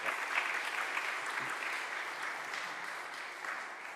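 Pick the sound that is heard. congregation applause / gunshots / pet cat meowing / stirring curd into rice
congregation applause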